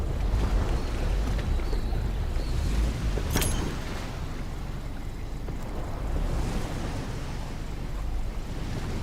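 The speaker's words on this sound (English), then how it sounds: "Pull the boat up to the dock and switch the engine off." A boat engine in Hell Let Loose runs steadily while docking, a loud low rumble mixed with wind and water wash, and one sharp click partway through.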